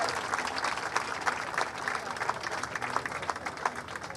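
Crowd of Galatasaray supporters applauding at a club celebration event, a steady wash of many hands clapping at moderate distance with some voices mixed in.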